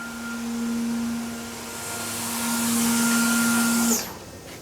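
A FANUC Robodrill CNC vertical machining center spindle spins at 14,000 RPM with a steady high whine and broad airy hiss, holding loud and constant for about four seconds before winding down abruptly.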